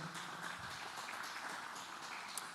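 A church audience applauds together, a steady wash of many hands clapping at moderate distance that holds without a break from start to finish.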